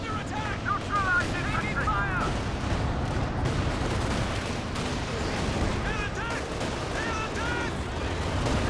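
A Land Mattress rocket barrage fires in Company of Heroes 2, a dense, continuous rumble of launches and blasts mixed with other battle sounds, while voices talk throughout.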